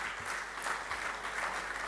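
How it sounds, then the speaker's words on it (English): An audience at a professional members' program applauds its chairman, a brief wash of dense clapping, even and somewhat distant, with no speech over it. "Can we have a huge round of applause for our chairman,"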